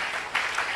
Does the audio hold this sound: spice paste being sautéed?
no